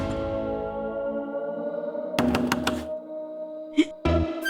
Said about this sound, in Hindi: दरवाजा बंद।